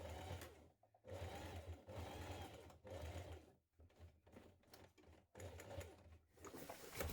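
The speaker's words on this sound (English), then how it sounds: "I'm just doing a straight stitch up this side." A sewing machine runs a straight stitch up the side seam of a pair of jeans in short rattling bursts, stopping and starting several times, close and quiet.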